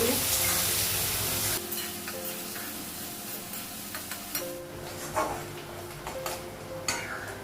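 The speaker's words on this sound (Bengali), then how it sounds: "পেঁয়াজটা একটু লাল করে ভেজে" Onions sizzle in hot oil, a loud hiss at first that settles into softer frying, dotted with occasional clicks of stirring.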